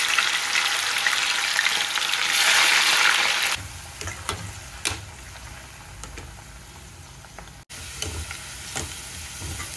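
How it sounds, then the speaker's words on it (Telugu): Ivy gourd (tindora) pieces dropped into hot oil, giving a loud sizzling burst that drops abruptly to a quieter, steady frying crackle with occasional stirring clicks. "దొండకాయ ముక్కలు ఇలా బాగా వేయించుకోవాలండి."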